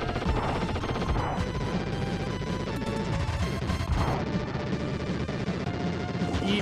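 Retro SNES shooter Wild Guns: dense, continuous arcade gunfire with crashes and hits layered over busy game music, loud throughout with no pauses.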